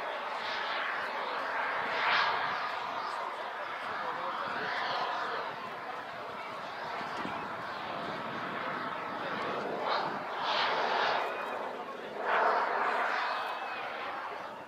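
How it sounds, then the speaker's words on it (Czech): A steady roar of a jet aircraft passing overhead at an air show, swelling and fading in waves, with crowd noise and distant voices underneath. "Ano, máme tu průlet."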